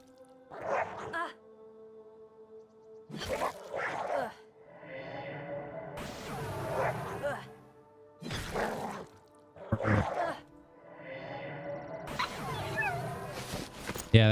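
Dog-like pet in the Monsters and Memories game barking and yipping in repeated bursts, fairly close, with whimpering tones between the barks.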